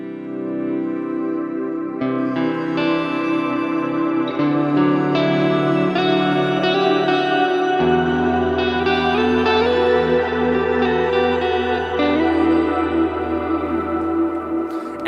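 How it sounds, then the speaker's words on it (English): An electric guitar through an HX Stomp with an octave pitch shifter feeding delay and reverb plays sustained chords that bloom into a bright, shimmering wash of layered higher octaves, steady and alone with no talking. "we can hear that it'll add like this really cool shimmer sound"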